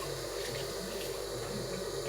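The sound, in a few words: water rinsing fish under a tap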